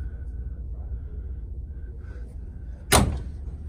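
The door of a 1959 MGA sports car shuts with a single sharp, solid thunk near the end, after a quiet stretch of low background hum.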